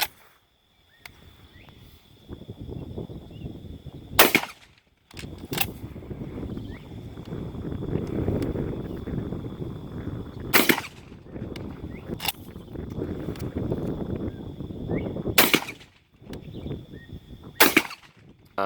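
Shotgun blasts from a duck gun fitted with a Carlson long range choke, fired with number 6, 4 and 2 shot at a patterning target outdoors, come as five loud sharp reports spaced several seconds apart, with rustling and a steady high tone between them.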